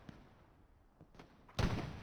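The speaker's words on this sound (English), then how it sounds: "shooting with the AT cannon on that building where the Germans are spawning" An anti-tank cannon fires at a building in Hell Let Loose, with faint distant thumps before one loud, close, deep blast near the end.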